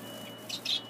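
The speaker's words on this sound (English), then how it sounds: "Cinnamon goldfinch." Cinnamon goldfinch canaries kept outdoors give two short, bright chirps close by over a steady low background hum, with no talking.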